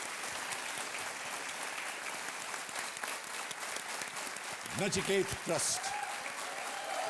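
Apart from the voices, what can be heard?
studio audience applause on quiz show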